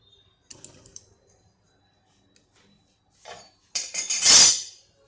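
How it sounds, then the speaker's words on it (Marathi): A metal pan is set down on a gas stove in a home kitchen: a few light clinks, a pause, then a louder, brief clattering scrape close by. "मी हे पॅन ठेवलं आहे गॅसवर"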